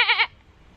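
A person imitates a goat with a single short, wavering bleat, loud and near, ending abruptly and followed by near silence.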